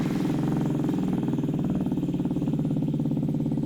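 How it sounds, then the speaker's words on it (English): A Yamaha C3 Vox scooter engine idles with a steady, close, even putter that holds level the whole time, with no talk. "But let me start the bike."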